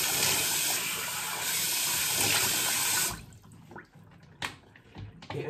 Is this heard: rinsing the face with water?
yes